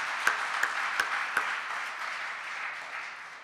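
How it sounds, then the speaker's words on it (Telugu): In a Baptist church during a Sunday service, the congregation claps steadily in a soft, even wash of applause that gradually thins out, with a few sharper claps near the start. "ఒకసారి చప్పట్లు కొడుతూ వారిని అభినందిద్దాం"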